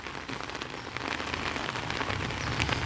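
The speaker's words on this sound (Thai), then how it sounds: "วันนี้ฝนตกนะครับ" Rain falls steadily outdoors with a dense, even patter on surfaces. It holds at a constant moderate level throughout, with no talking.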